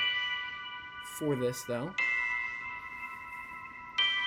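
A GarageBand synth patch called Fairy Tales Bells plays sustained chiming chords, rings steadily, and retriggers at least once, with a short stretch of speech over the tones.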